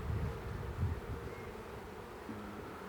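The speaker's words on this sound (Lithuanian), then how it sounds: "Iš tiesų, ramios bitės." Calm honeybees at an open hive hum in a low, continuous drone, faint and steady, with a few slightly louder pulses early on and no speech.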